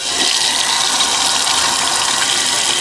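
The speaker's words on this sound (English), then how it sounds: "if you run it under the tap, it goes through there and actually drains out of there" A Stormtrooper-style electric shaver is rinsed under a running tap, giving a loud, continuous gush of water splashing close by with no break.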